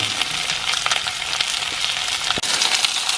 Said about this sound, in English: we've got a low heat and we're slowly rendering that fat on the bottom of the lamb